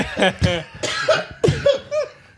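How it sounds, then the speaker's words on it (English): Several people coughing together, turned away from their microphones, with rough bursts in quick succession mixed with a little laughter, close and fairly loud. "I love how we all move the microphones from our mouth and start coughing"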